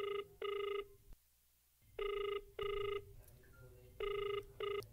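A telephone rings in loud paired bursts, double ring after double ring with short pauses between, three pairs in all over a faint background hum.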